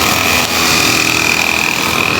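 Close and loud, a grass cutter engine runs steadily outdoors with a high, buzzing whine over a rough continuous drone, holding level from start to finish with no voices.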